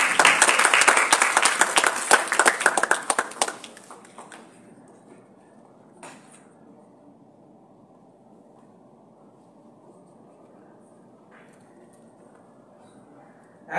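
Audience applause at a concluding ceremony for an elocution contest series, a dense burst of clapping for the first few seconds that thins out and fades, followed by a long quiet stretch with a couple of faint knocks.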